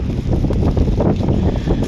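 Steady wind buffeting the microphone, a dense low rumble with gusty pulses throughout and no voices.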